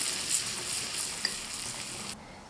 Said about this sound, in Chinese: 倒入刚烧好的热油，搅拌均匀备用